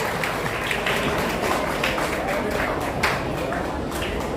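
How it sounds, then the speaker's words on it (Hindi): Steady applause from the audience at a chess tournament in Satna, a dense continuous wash of many hands clapping at a fairly loud level with no talk over it. "मैं चाहूंगा एक बार जोरदार तालियां उनके लिए"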